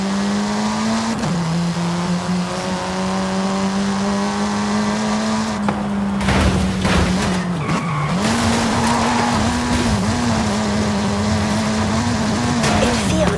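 A Golf 7 in Forza Horizon 5 drives with a sustained, droning engine note, then breaks into repeated tire squeals and skids as it revs and slides through turns, loud and close throughout.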